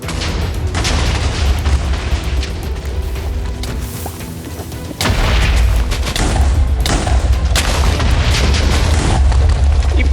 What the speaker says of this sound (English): The result was a spectacular explosion that killed both him and Anoist instantly